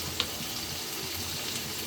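Spices and tomatoes sizzle and crackle steadily in a hot pan while being stirred, a soft continuous frying hiss with a small scrape near the start.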